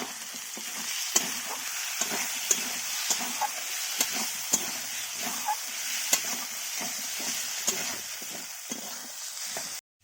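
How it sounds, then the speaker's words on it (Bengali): Chilli and turmeric spice paste fries in a hot pan for prawn and yam curry, a steady sizzle and hiss broken by the scrape and clack of a spoon at an uneven stirring rhythm, close and alone. "মশলা আমি গুলে রেখেছিলাম লঙ্কা আর হলুদ এক চামচ করে গুলে রেখেছিলাম সেটা দিয়ে দিলাম"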